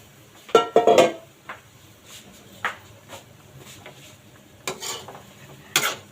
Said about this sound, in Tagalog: Pinakuluan ko na kasi yung baka yung kanina. Ngayon gigisa ko na lang.